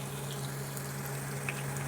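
Garlic frying in oil for a Kerala-style irumban puli (bilimbi) pickle gives a steady, soft sizzling hiss over a low constant hum, with no talking.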